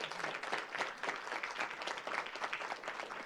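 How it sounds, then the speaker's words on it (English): Audience applause for school quiz team coaches at a sixth-grade Whiz Quiz final, steady dense clapping from a room full of people with no talk over it, sustained throughout. "So give them a round of applause, please."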